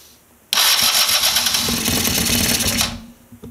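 A 50cc scooter engine fitted with a 70cc big bore kit cranks and catches, then runs with a buzzy, rattling idle for a couple of seconds before cutting back to quiet, fairly close, in a cold room.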